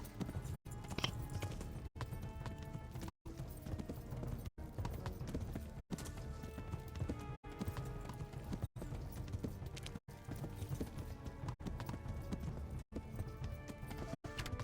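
Horse hooves clip-clopping in a steady trotting rhythm while riding in the video game Kingdom Come: Deliverance, a continuous close beat of hoof falls with no talk.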